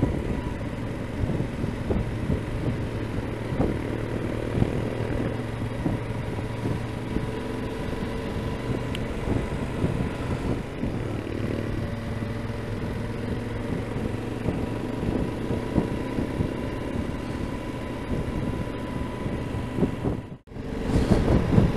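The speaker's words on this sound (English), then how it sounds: "we've got a mixture of the sound of motorbikes and beautiful scenery" Motorbikes riding on a touring road near John O'Groats in Scotland, a steady engine drone with wind buffeting the microphone throughout, briefly dropping out near the end before resuming.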